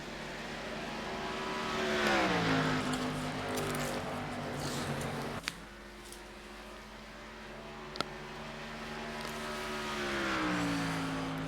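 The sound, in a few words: race cars in a sim racing video game at Pocono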